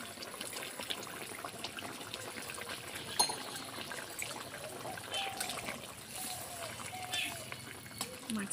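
Pieces of rohu fish slide into a simmering pointed-gourd curry, followed by a soft, continuous bubbling and liquid trickle close by, with quiet kitchen background.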